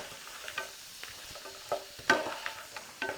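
A 10-ounce bag of frozen mushrooms is stirred around in a frying pan, soft sizzling under a series of scattered spatula scrapes and taps against the pan, close and moderately quiet.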